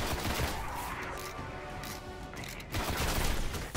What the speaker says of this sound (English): we're getting shot from across the way as well